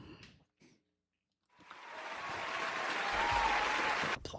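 Applause swells in after a short burst of sound and a pause of near silence, rising to a steady, moderately loud wash of clapping that holds, then cuts off abruptly near the end.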